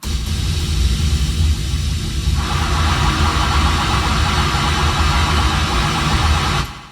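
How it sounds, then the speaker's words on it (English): Steady broadband white noise from network traffic fed into a sound card, filling the whole stretch at an even loud level, brightening partway through and cutting off just before the end. "So because this is random, it comes through as white noise like this."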